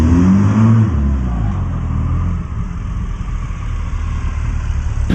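A motorcycle engine revs hard as the clutch is dumped for a rolling burnout, a loud, steady, gritty engine roar close by that holds at high revs throughout, with a low rumble underneath.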